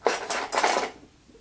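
Metal silverware clatters in a gray vertical drawer holder, with two or three short, close jangling bursts followed by quiet.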